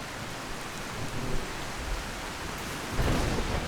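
Steady, heavy rain in Skyrim hisses continuously, with a deeper rumble swelling near the end.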